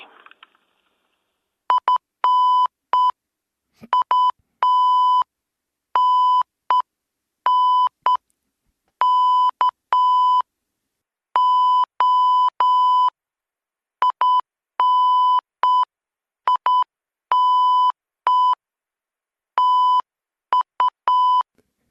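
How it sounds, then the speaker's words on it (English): Morse code sent as a steady, clean electronic tone, with long runs of short dots and longer dashes keyed in irregular groups and separated by gaps, loud and alone with no voices. "I'll leave you with a little bit of Morse."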